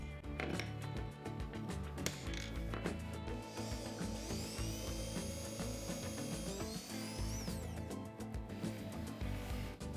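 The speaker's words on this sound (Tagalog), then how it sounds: "Kumuha ng 2 washer at butasan ng mga ito." Metal washers being drilled with a power drill, a quiet grinding whir with a rising high-pitched whine in the middle and scattered clicks and knocks of handling.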